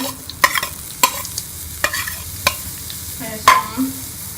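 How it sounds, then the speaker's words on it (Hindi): Onions sizzle in two spoons of ghee in a kadai, a light close crackle broken by several sharp spoon scrapes and taps against the pan at irregular intervals. "इसमें मैंने कढ़ाई में 2 चम्मच घी के डाल दिया। इसके अंदर मैं ये प्याज डाल दूंगी।"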